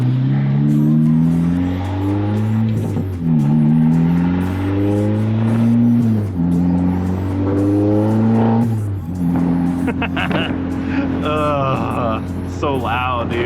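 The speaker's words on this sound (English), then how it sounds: "I know normally straight piped exhausts sound really bad" A loud car exhaust revving repeatedly, each rise in pitch climbing and dropping in harsh, raspy bursts, close by, with voices talking underneath.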